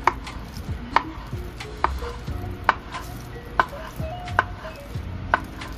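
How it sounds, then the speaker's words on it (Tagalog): A knife slicing food on a cutting board, about eight crisp, evenly spaced chops landing close by against a faint background hum. "Atin muna i-slice."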